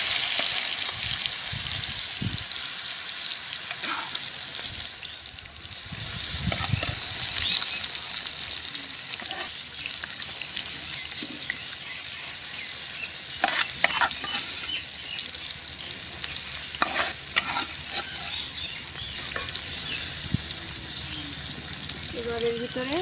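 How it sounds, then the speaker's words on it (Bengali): Boiled olives are added to hot oil with panch phoron and stirred, producing a continuous close sizzle and frying hiss with occasional scraping stir sounds over the whole stretch. "এবার আমি সিদ্ধ করা জলপাইটা দিয়ে দেবো এর ভিতরে।"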